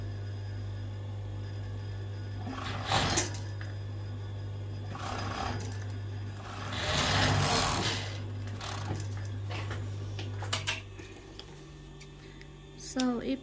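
An overlock machine stitches the waistband of stretch leggings in several short, close bursts of rapid mechanical whirring, with quiet pauses and faint handling between runs.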